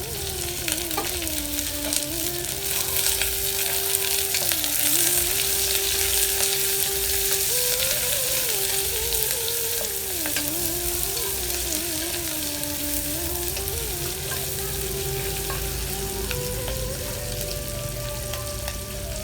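Green chilies and thin-sliced onions frying with whole spices for Kerala coconut rice, a loud constant sizzle with a faint wavering background tone, even and unbroken.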